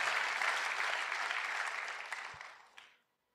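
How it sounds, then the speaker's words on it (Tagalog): A crowd of people claps together at a Tagalog preaching service, steady broadband applause that holds for a few seconds, then thins out and stops abruptly with one last clap. "Kaya na pumalakpak yung mga tao rito."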